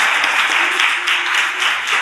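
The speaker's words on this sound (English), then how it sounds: "I just want to give a round of applause to the municipal employees who are here today" Audience applause for municipal employees at a waste summit keynote, a steady dense patter of clapping that fills the whole moment at close, even loudness.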